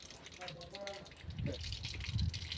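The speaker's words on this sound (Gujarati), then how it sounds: "પાણી છાંટવાનું ચાલુ છે અમારે." Water gushes and splashes as it is sprayed onto the ground outside a home, a steady rushing wash that swells louder toward the end, with people talking throughout.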